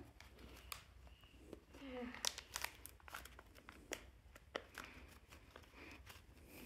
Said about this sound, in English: What is wrong with these bags? Just cut already.